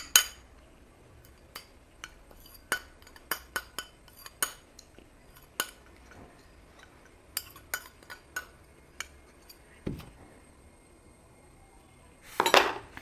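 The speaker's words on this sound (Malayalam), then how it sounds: "കൂടി നമുക്ക് നന്നായിട്ട് അങ്ങ് മിക്സ് ചെയ്യാം." A spoon stirs honey into curd in a bowl, giving sparse, irregular clinks and taps against the dish, close and fairly quiet, with no talking.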